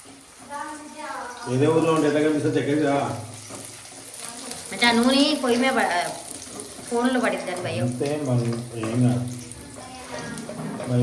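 Onions frying in a pan, a continuous sizzle running beneath loud, close conversation between several people.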